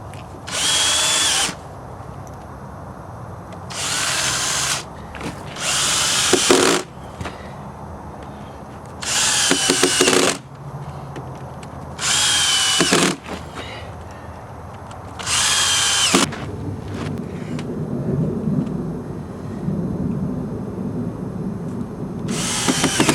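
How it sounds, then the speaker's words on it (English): A power drill drives screws and pilot holes into recycled plastic raised garden bed boards. It runs in about six loud, separate bursts of a few seconds each, with quieter handling noise between them. "So I'll just drill a couple pilot holes, 2 in each board, and we'll be good to go."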